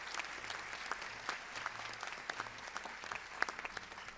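Audience applause at a ceremony honoring International Women's Day, with sustained, moderately distant clapping and a low hum underneath.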